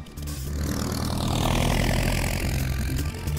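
A crop duster plane's engine and propeller drone loudly and steadily over fields, a continuous close buzzing roar with music playing alongside.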